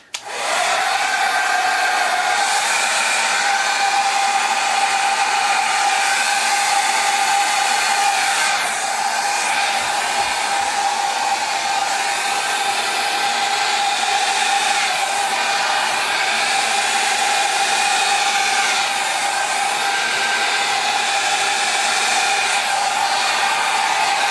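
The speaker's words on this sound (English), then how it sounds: "now we're going to do the hairdryer" A hair dryer blows steadily across a metallic acrylic Dutch pour, pushing the fluid paint outward; its loud, constant whine and airy rush run unbroken from start to finish with no talking.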